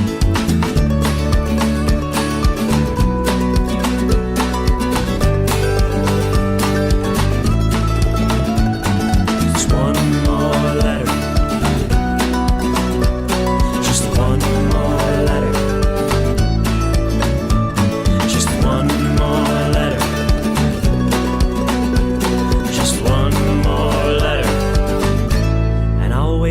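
A song from an EP plays as a full band mix, loud and continuous with steady rhythm and sustained harmonic layers throughout, no talking over it.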